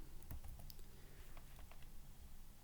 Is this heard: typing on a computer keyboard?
yes